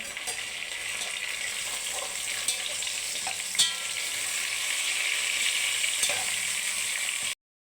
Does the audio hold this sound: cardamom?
yes